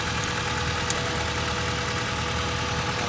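A Honda Civic engine idles roughly, a steady low mechanical drone with an uneven, slightly knocking pulse, heard close and alone with one faint tick partway through.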